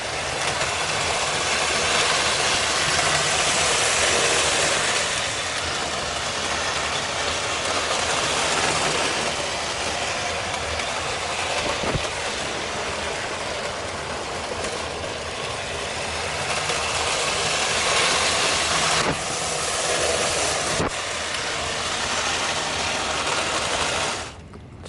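A freshly serviced vintage 1968 Arnold Rapido Union Pacific Baldwin 262 N scale model locomotive running steadily, with a fine, even motor whir and faint clicks throughout, close and alone.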